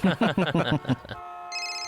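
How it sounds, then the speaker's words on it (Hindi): Someone speaks briefly, then a telephone starts ringing with a steady electronic tone that continues after he falls silent; his wife is calling. "लो, बीवी का फोन है।"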